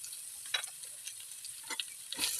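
Pork sizzles steadily in its own rendered fat in a pan, a soft constant frying hiss with a few crackling pops, fairly faint and without voices.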